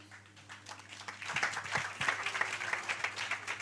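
A workshop audience breaks into applause, quiet at first, then a dense spread of clapping swells in after a second and carries on steadily, moderately loud.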